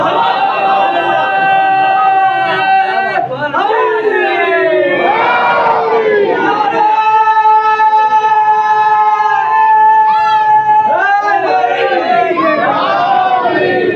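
An audience at a majlis shouts religious slogans together, loud, massed voices rising and falling in call-like bursts that fill the whole stretch.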